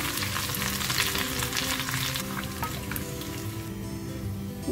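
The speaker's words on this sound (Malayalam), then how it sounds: "3 ചെറിയ ഉള്ളി അരിഞ്ഞത് ഇട്ട് കൊടുക്കുക കുറച്ച് കറിവേപ്പില ഇട്ട് കൊടുക്കുക ഇതെല്ലാം കൂടി നന്നായിട്ട് മൂപ്പിക്കുക" Chopped shallots and curry leaves fry with fenugreek for a king fish curry, giving a dense, loud, continuous crackling sizzle close up that eases a little toward the end.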